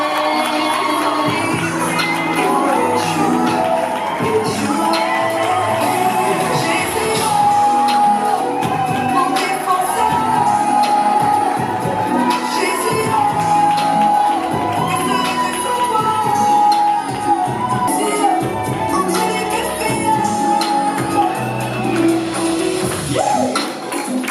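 Wedding guests at a civil ceremony and nuptial blessing clap and cheer loudly and steadily throughout, a dense crowd din with shouts and whoops and no clear speech.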